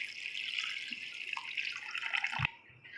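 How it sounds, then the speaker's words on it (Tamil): Water is poured from a tap-like stream into a pot of tamarind kuzhambu made with fresh sundakkai, a steady close splashing hiss lasting a couple of seconds before it cuts off. "தேவையான அளவு தண்ணி ஆட் பண்ணிக்கலாம்."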